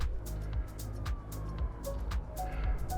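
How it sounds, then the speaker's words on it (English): Distant ambulance and police sirens heard across the countryside with a motorway under a mile away, faint wailing tones rising and falling over a low rumble of traffic. "just sirens of ambulances, police cars"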